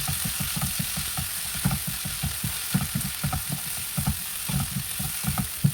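Fenugreek leaves and chopped tomatoes fry in a pan for a Rajma methi curry, giving a steady close sizzle broken by repeated stirring scrapes at an uneven rhythm, with no voices.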